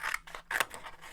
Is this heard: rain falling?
no